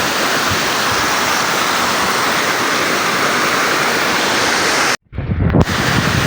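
Waterfall at Isang Falls pouring steadily in a loud, continuous broadband roar, close by and unbroken, with a brief dropout near the end before the rushing water returns.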